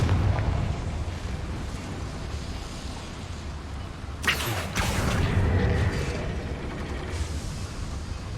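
A Confringo fire spell in Hogwarts Legacy bursts in a sudden loud explosion over a low game rumble, then settles into crackling debris and a rumbling tail.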